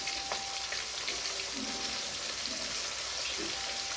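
Fish fries in hot oil for a soutrou sauce dish, a dense, even crackling sizzle that holds steady throughout, close and fairly loud, with no voices.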